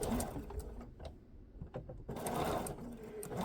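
A sewing machine chain-stitches scrap fabric through a single-hole plate, running in fast rhythmic bursts up close, with a brief slower pause in the middle.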